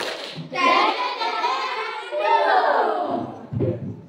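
A classroom of children chants the Superman clap routine in unison for about three seconds, voices loud and close, then it ends with a sharp burst of clapping.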